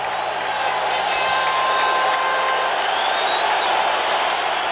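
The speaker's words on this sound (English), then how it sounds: "this crowd on its feet. Listen to this crowd." A baseball crowd at a 1988 Phillies vs. Mets game at the Mets' home park gives a standing ovation, a loud, sustained wash of stadium cheering and clapping.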